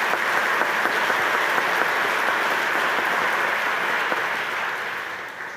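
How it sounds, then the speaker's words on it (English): Warm, continuous applause from an audience at a Festival of Books prize announcement, thick and even throughout before gradually tapering off at the end, with no voices. "let's please give them a richly deserved round of applause"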